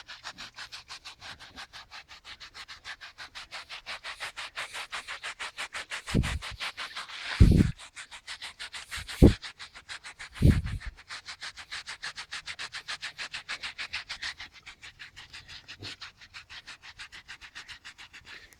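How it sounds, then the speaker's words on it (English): A pet is scratched and rubbed, giving a fast, regular rasping scratch that runs continuously from start to finish, broken by a few louder snuffling sniffs near the middle; close and fairly quiet, with no talking. "here's Bacon getting some scratches"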